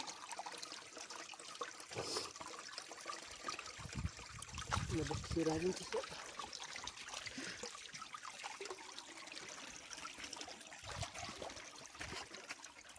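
A natural papaya is washed under running water outdoors, a steady trickling and splashing stream that swells briefly midway, with a voice talking over it.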